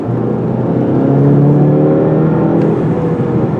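A 2020 Volkswagen GTI with a turbocharged engine and six-speed manual gearbox under way, its engine a steady, loud drone that rises slightly in pitch as it pulls, heard close from inside the car.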